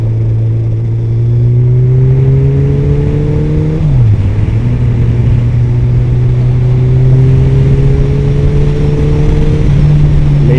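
A Suzuki Hayabusa motorcycle engine drones steadily while riding along a road in northern Thailand, its pitch climbing gradually, dipping briefly as a gear changes, then climbing again under constant wind rush, loud and close with no talk.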